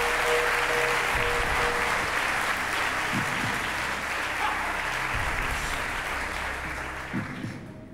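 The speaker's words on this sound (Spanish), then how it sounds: "¡Aplausos para Carmelo Matalobos!" Sustained applause from a large television game-show studio audience, steady and dense throughout, fading slightly at the very end.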